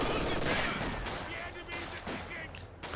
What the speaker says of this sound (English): The MG42 doing some big work.